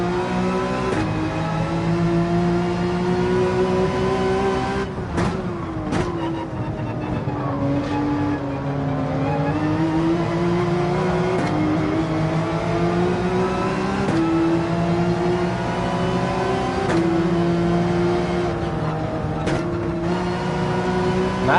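A race car engine drones and revs steadily in a racing video game, its pitch rising and falling through gear shifts and corners, loud and continuous with no one talking.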